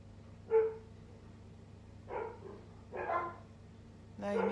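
Dogs bark from a short distance indoors, a sharp yelp followed by spaced bursts of barking over a steady low hum.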